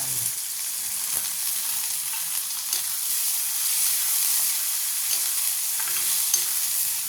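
Onion frying in a pan with ginger-garlic paste and cumin, a steady bright sizzle with occasional faint stirring clicks, close and continuous with no talk.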